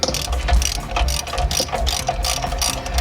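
A ratchet loosening a Toyota O2 sensor, rapid close-up clicking of the pawl in quick repeated bursts with no talk.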